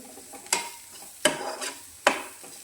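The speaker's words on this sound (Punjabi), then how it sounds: "ਹੁਣ ਇਹਦੇ ਵਿੱਚ ਆਪਾਂ ਧਨੀਆ ਪਾਊਡਰ ਪਾ ਦਿੰਨੇ ਆ ਮਿਲਾ ਦਿੰਨੇ ਇਹਨੂੰ ਵੀ" Coriander powder is stirred into frying curd tadka in a pan, with three distinct scraping stirs over a low sizzle.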